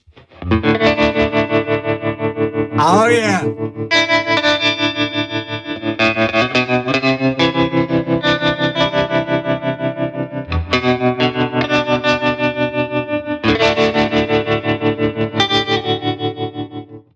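Distorted electric guitar strums ring through a Universal Audio Ruby pedal with a chorus-style effect and reverb, repeated chords with a wobbling shimmer and one brief pitch-bending swoop; a voice speaks briefly.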